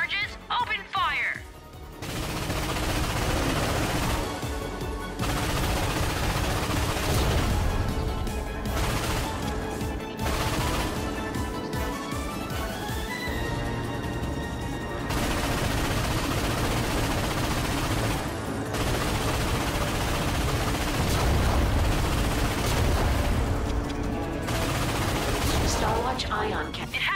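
Cannon and gunfire aimed at warships in the Ratchet and Clank video game, dense repeated blasts and crashes that run almost without pause, mixed with game voices talking.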